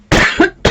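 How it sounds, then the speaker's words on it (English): A person gives two short, loud, close coughs in quick succession, harsh bursts with a brief gap between them, with no talk around them. "I'm going to start coughing now, I need a drink."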